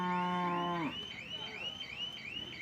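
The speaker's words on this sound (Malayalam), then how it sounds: "പോത്തുംകുട്ടികളും പശുക്കളൊക്കെയാണ് ഈ ഭാഗത്ത് നിൽക്കുന്നത്" At a buffalo market with buffalo calves and cows, a single long, low moo sounds up close, then gives way to a faint, wavering high-pitched whine in the background.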